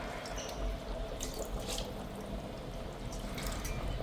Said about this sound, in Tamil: இதில் கொஞ்சம் கூட தண்ணி ஊற்றிட்டு போட்டுங்க.